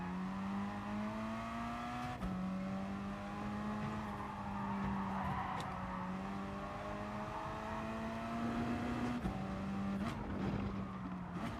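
A Gr.4 race car in GT Sport at the Nürburgring brakes hard with a sustained tire squeal over a droning engine, the tone shifting through downshifts, loud and continuous without talk.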